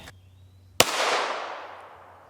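A 4.5-inch AREX Delta Gen 2 long slide pistol fires a single shot at an aramid helmet, a sharp, loud crack followed by a fading echo, with a faint steady hum heard before the shot.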